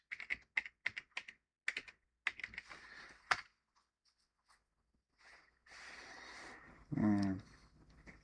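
Typing on a computer keyboard, a quick run of crisp close key clicks that stops, followed by a few sparse taps and a short muffled rustle.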